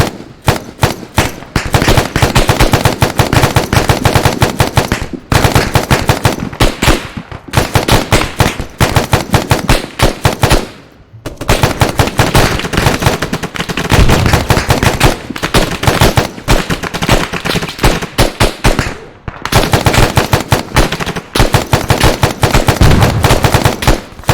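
Gunfire in the military shooter Arma 3, loud sustained bursts of automatic fire, rapid and dense, broken by a few short pauses.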